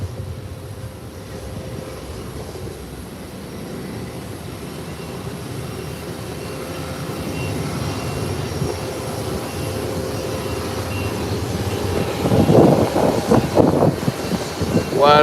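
Private jet engines idle and spool at a runway threshold in a flight simulator game, a steady loud roar that builds in intensity toward the end, with a louder rumbling swell near the close.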